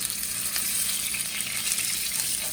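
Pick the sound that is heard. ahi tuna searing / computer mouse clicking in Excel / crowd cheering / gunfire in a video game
ahi tuna searing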